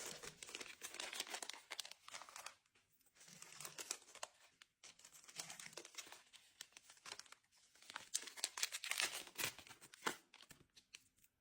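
Small plastic packets of surprise bracelet bags crinkling and rustling in hands, several bursts of crisp crackling separated by brief pauses, close and fairly quiet.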